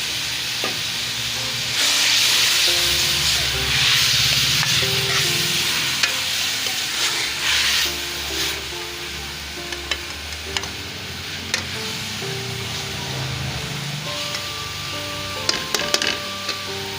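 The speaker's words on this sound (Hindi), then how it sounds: "और ये 1 प्याली शामिल कर रही है टमाटर का पेस्ट," Tomato paste sizzles steadily in a frying pan while being stirred for a potato and green bean curry, with scraping strokes and a continuous hiss and bubbling close by throughout.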